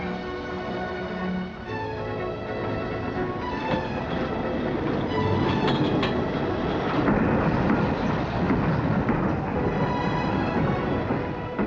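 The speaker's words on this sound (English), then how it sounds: "Trains like the Condor, non-stop every night between London and Glasgow in less than 10 hours." A diesel-hauled goods express train runs at speed on the London to Glasgow route, a loud steady rumble with rail clatter throughout and no voices.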